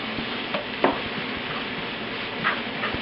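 Onions sauté in oil in a pan over lowered heat for huevos rancheros, giving a steady, close sizzle with a few faint clinks and stirring touches, and no talk.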